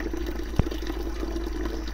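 Water from a village spring in Kenya runs in a steady, close trickle while being collected, with a single sharp knock partway through.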